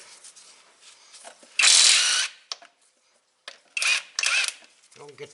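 A ratchet working on 16 mm transmission mount bolts under a 2001 Mustang, heard as short bursts of rapid clicking separated by pauses, close and fairly loud, with someone talking at the end.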